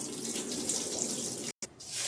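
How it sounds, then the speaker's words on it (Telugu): Rice being rubbed and rinsed under a running kitchen tap, with a steady splashing flow of water into the sink that breaks off for a moment before resuming. "రైసు 3 సార్లు శుభ్రంగా రుద్ది కడిగేస్తున్నాను"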